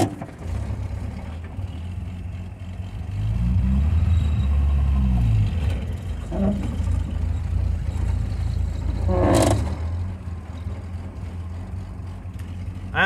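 A low, rumbling 1974 Ford E100 van engine drives steadily, swelling louder midway, with a few clunks and rattles along the way.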